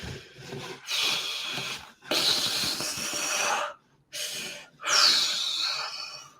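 A person demonstrates breathing up close, moving from short, ragged breaths to long, hissing exhales with a slower, calmer pace.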